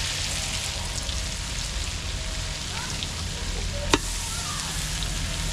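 Garlic and onion sauté in butter and cooking oil in a large catering pan, giving a steady, even sizzling hiss throughout with a single brief clink near the end and no clear talking.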